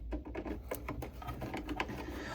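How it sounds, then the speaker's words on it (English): A Phillips screwdriver removes four screws from an LED controller button board, producing a run of small clicks, scrapes and ratcheting ticks that are close and fairly quiet over a low hum. "just take your Phillips screwdriver and remove the 4 screws."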